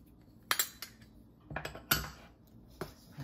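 A fork clinks against a bowl while stirring turmeric, curry powder, kosher salt and sugar together, giving several sharp metallic taps in irregular bursts, close and fairly quiet.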